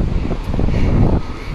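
Wind gusts steadily past a microphone beside a 165-foot flag on a tall pole in Sonapur, a continuous low rushing roar that swells slightly midway, with no distinct flapping and no voices.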